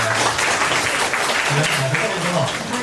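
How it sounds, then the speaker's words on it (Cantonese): An audience at a fashion design forum applauds a teacher with a short burst of dense, steady clapping, while a voice speaks over it. "俾啲掌聲你老師先啦"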